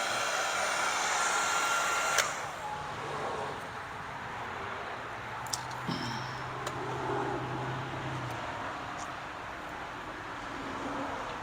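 A heat gun blows a steady, close airflow roar while shrinking heat shrink tubing on turn signal wiring of a 1986 Ford CF7000 truck; the hum holds for about eleven seconds with a few faint clicks.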